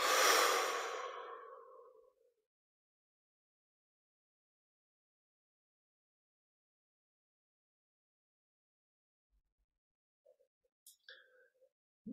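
A long, slow, breathy exhale during a guided meditation is heard up close. It fades out over about two seconds, then comes long silence with a few soft faint sounds near the end.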